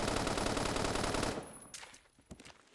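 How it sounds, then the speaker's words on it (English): A PDW fires a rapid automatic burst at a wall in Roblox Phantom Forces, loud and continuous for over a second before cutting off to scattered faint clicks and shell sounds. "I'm just gonna shoot at a wall"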